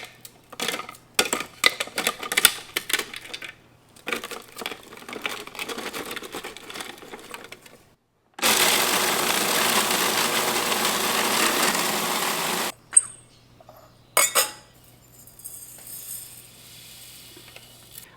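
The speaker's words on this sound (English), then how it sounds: "So let us break it up into the food processor." A food processor whirs steadily for several seconds while grinding dried garlic scapes into salt, sitting between bursts of clattering and handling noise.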